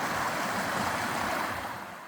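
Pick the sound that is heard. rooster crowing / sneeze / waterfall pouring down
waterfall pouring down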